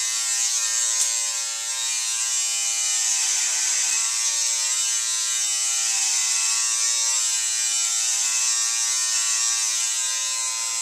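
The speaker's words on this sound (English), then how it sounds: "Is that not a good clipper, or is it all right?" A professional electric hair clipper buzzes steadily and close for the whole stretch, a constant motor hum with a slight dip in pitch partway through, and no talking.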